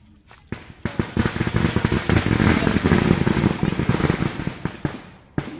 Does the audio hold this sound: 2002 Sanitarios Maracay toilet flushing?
no